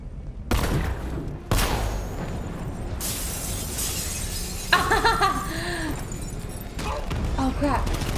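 Gunfire and shattering glass burst out in Batman Arkham Knight, with loud broadband bursts of shots and breaking debris that come in several dense waves over a steady game-sound bed.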